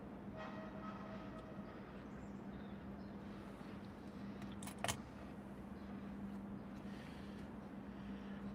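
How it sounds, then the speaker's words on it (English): Low continuous rumble of an approaching freight train rolling along, a steady drone with brief squeals and clanks partway through, no talking. "There is a freight train approaching"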